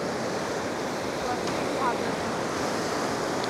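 Sea waves wash continuously at Devbag beach, where a river meets the sea, making a steady broad roar mixed with wind. The surf stays even and fills the whole stretch.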